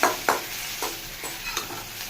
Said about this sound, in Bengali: এইটা একটু নাড়াচাড়া করে লালচে মতন করে নেবো